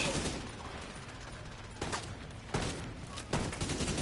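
Gunfire in the video game The Division 2 comes as a few bursts of rapid shots at intervals over a steady background noise, fairly faint and without speech.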